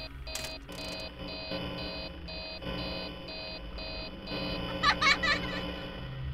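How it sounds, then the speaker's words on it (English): An alarm goes off in Five Nights at Freddy's 3, a repeating electronic beeping pulse in regular on-off bursts, with a few sharper electronic squeals near the end and no talk over it. "The alarm's probably gonna go off."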